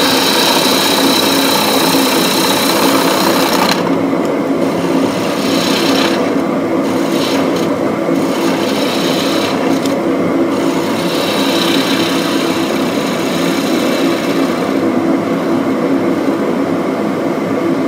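Woodturning on a lathe, hollowing wood from the underside of a box lid to lighten it: a steady, loud rasping scrape runs throughout, with a constant machine drone underneath and brief changes in tone as the tool cuts.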